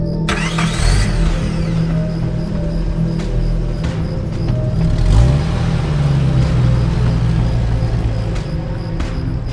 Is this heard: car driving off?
yes